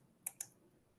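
Two crisp computer mouse clicks, close together and near, while moving through the Koha library system administration menu; quiet otherwise with no talk.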